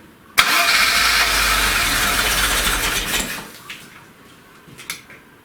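A VAZ 2102 car engine cranks and fires up after a full overhaul, a loud abrupt start settling into a rough, uneven idle for several seconds before fading down, with a few faint clanks afterward.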